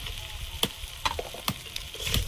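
A fish head fries in a pan with ground coriander and other spices, sizzling steadily while a utensil stirs it with several sharp scraping strokes at a regular pace, close by.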